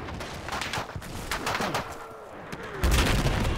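Scattered game gunfire cracks in repeated sharp shots at mid distance, with a brief whistling pass and a heavier thump near the end, alongside bird-like chirps in the background.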